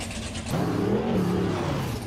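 A car revs hard while pulling a power wheelie at a Baltimore street event, its engine climbing and holding a strained note at a moderate distance.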